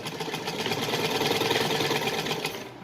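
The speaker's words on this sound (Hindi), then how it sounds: "पूरी डोरी पे एकदम सीधी सिलाई लग जाएगी।" A sewing machine runs a straight line of stitches along a fabric cord for a small polka dot doll dress, a steady, close, rapid whirring hum that goes on without a break.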